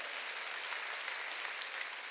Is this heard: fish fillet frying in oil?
no